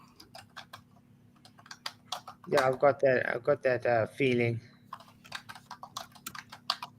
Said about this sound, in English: Who's typing like? It's not me. Not that time. It's loud.